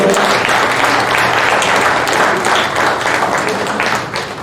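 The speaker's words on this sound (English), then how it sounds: "Let's give a clap offering to our doctor." A church congregation at a Sunday service gives loud, dense, continuous applause for a visiting doctor. The steady wall of clapping fills the space and fades slightly at the end.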